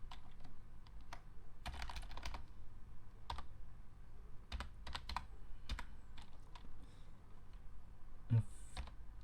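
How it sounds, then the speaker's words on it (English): Keys clack on a computer keyboard in quick, irregular bursts separated by short pauses, close and fairly quiet against a low steady background hum, with no voices. "typing this correctly"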